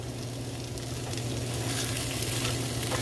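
Chop suey sizzles steadily in a dry pan with added olive oil, a constant close frying hiss with no break and no voices.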